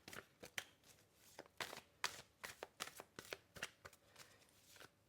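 Quiet, close riffles and slaps of tarot cards being shuffled come in uneven rhythmic bursts, with soft pauses between them.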